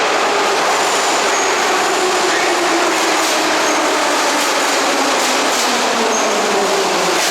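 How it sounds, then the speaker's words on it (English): A Kyiv metro train pulls into the station, a loud steady rumble of rail cars with clacking wheels and a rising squeal building over several seconds, no talk. "Oh, here comes the metro here"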